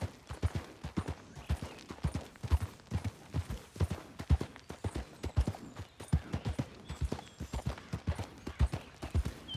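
A horse gallops in Red Dead Redemption 2, its hooves thudding in a steady, rapid rhythm that stays close and continuous throughout.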